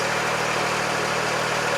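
Canal narrowboat diesel engine running steadily at around 1500 to 1600 revs, a continuous low rumbling drone with an even mechanical throb, close and loud.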